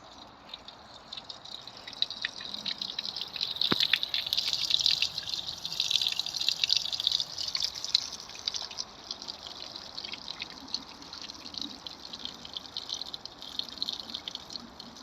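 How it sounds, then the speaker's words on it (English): Running water trickles and drips continuously at a soft, steady level, with occasional brighter splashes over a quiet outdoor background. "For those of you who like the sound of running water,"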